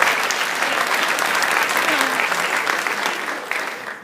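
Audience applause during a talk, steady and fairly loud clapping from a full room that holds for several seconds and tapers slightly at the end.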